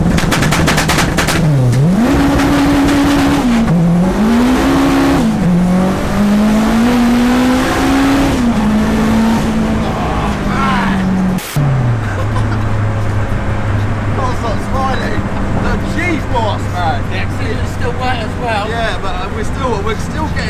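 A 700 hp all-wheel-drive Honda Civic with a swapped turbocharged K20 engine revs hard on a wet surface, its engine note rising and dipping, then launches with a loud sustained roar. The sound stays close and loud throughout.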